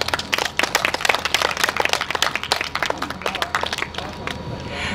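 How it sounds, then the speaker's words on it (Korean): An audience at a drive-in theatre screening event claps, with irregular individual hand claps rising and thinning over a few seconds and a faint background murmur. "우리 오평근 전 부의장님께 뜨거운 박수 부탁드리겠습니다"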